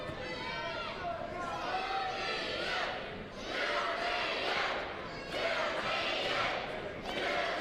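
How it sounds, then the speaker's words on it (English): Crowd at a college wrestling match, Northern Iowa at Utah Valley, chanting "UVU" in loud, repeated rhythmic bursts that rise and fall with short gaps between them. "Crowd chanting UVU"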